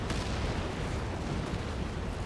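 Distant artillery explosions rumble across a battlefield in the real-time strategy game Company of Heroes 3, a dense continuous roar of blasts and gunfire with no clear gaps.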